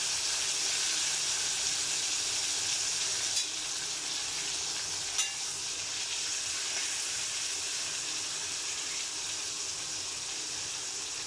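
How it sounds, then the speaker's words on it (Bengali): Bitter gourd pieces fry in hot mustard oil, a steady close sizzle and crackle that holds level throughout with a couple of brief louder pops. "সরষের তেলের মধ্যে করলাগুলো আমি ভেজে নিব, খুব সুন্দর করে ভেজে নেব।"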